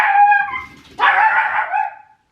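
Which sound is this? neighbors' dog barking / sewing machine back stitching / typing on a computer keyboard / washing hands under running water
neighbors' dog barking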